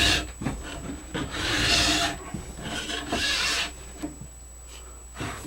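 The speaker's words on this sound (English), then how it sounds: "I could feel the file did not quite cut right there" Metal file rasping along the steel edge of a carbon ski during tuning, several separate scraping strokes of varying length, close and fairly loud.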